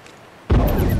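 A bomb detonating in The Last of Us Remastered, one sudden loud blast after a quiet moment, followed by a heavy rumbling roar that lingers and does not decay.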